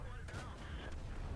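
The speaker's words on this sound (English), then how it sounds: "M12 has just fired." An M12 self-propelled artillery gun fires in World of Tanks, a short, muffled boom set against a steady rumbling background.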